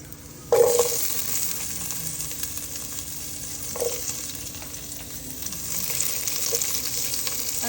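Garlic hits hot oil in a pan for mung beans, squash and string beans, bursting into a sudden loud sizzle that keeps frying steadily, with a few stirring scrapes.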